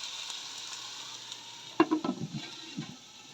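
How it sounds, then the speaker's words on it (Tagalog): Ground pork sizzling in a covered pan for a potato and carrot stir fry, a steady frying hiss with a burst of louder crackles and clatter partway through, then settling back to a soft sizzle. "takpan na natin para maluto yung ating pork giniling"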